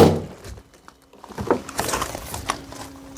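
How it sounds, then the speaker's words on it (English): Balloon burst by a spike dropping inside a Ford Mondeo Mk3 anti-theft booby trap: a sudden loud bang from a quiet start, followed by clattering and rustling movement inside the car. "that sharp pointy thing will drop down, pop the balloon, make a big noise"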